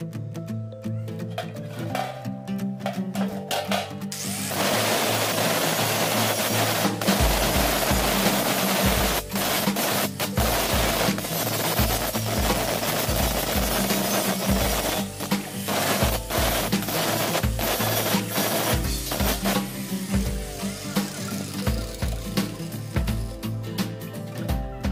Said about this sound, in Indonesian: Habis ini kita lakukan penggosokan bekas las tadi supaya rata dan rapi.